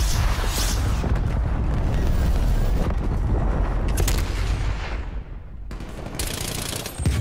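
Rapid automatic gunfire from the OTS 9 submachine gun in Black Ops Cold War, loud sustained bursts with explosive booms, briefly cutting out near the end before resuming.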